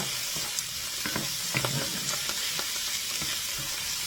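A ground chicken meatball sauce mixture sizzles steadily in a pan while being stirred, the constant frying hiss broken by scattered scraping and clinking sounds, with no voices.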